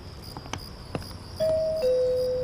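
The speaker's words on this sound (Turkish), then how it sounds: "Hadi çal şu zili artık." A doorbell chimes two clear tones in a row, ding then dong, after a few faint knocks and clicks in a quiet room.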